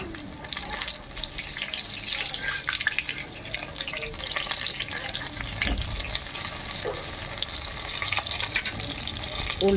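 Ash gourd leaf fritter frying in hot white oil in a kadai, giving a dense, continuous crackling sizzle that stays fairly loud and even, with faint speech in the background.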